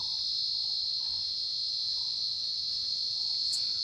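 Crickets and other insects drone loudly and unbroken at night in the Mundanthurai forest of the Pothigai hills, a steady high shrill close by, with faint, spaced lower chirps underneath and no talking.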